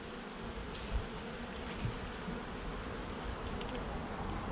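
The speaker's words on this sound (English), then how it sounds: "A lot of bees." Dense, steady hum of many honey bees fills the air throughout a September hive inspection, a constant close swarm drone with occasional louder passes near the listener and no talk.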